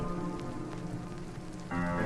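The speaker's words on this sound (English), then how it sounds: "I love all the little effects we have here, like the rain" Rain patters through a chiptune synth track, a soft steady hiss of drops blended with the music, which swells slightly toward the end.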